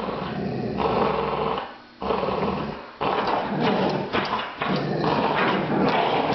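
A pair of dogs growl loudly and close by as they wrestle over a toy, the snarling rumble running nearly nonstop with two short breaks.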